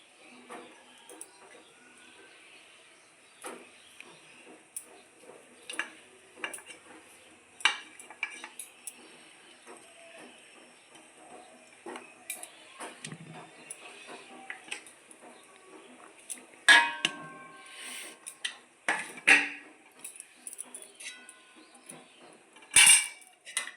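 Chicken pieces go into a pot for chicken biryani, with scattered clinks of metal utensils against the pot and a few sharper knocks, fairly quiet and close with no talking.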